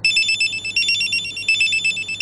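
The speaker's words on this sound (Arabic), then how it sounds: "موبايلك عم يرن." Mobile phone ringing with a bright, repeating electronic ringtone in even pulses, loud and close, heard on its own.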